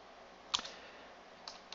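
A computer keyboard is tapped as a pip install command is typed at a command line: one crisp click near the start, then a couple of lighter taps later, close and alone over faint background hiss.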